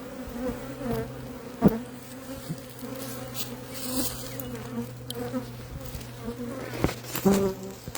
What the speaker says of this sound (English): there are 5 established frames with lots of bees